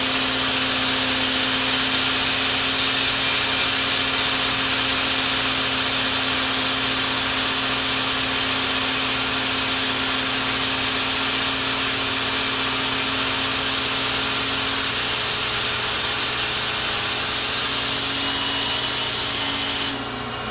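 A grinding wheel sparks out inside the bore of a hardened bushing, a steady loud high-pitched grinding whine with a constant motor hum for about twenty seconds, close and without talk.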